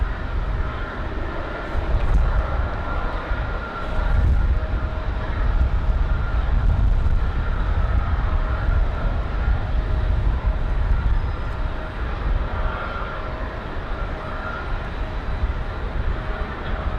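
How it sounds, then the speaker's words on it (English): A Southwest Boeing 737 MAX 8 arrives at rainy Raleigh-Durham airport, a continuous broad jet rumble with a low droning hum, fairly close and steady throughout, heard alone without talk. "So Southwest 1581 from Denver, 737 MAX 8."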